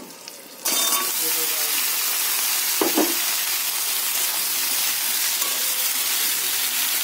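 Ridge gourd and potato drop into hot oil with lightly fried onion, setting off a sudden loud sizzle that then holds steady and close, with one brief clatter partway through.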